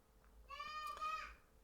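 A voice babbles faintly in the background for about a second, with a high, sing-song run of vocal sounds over a quiet room.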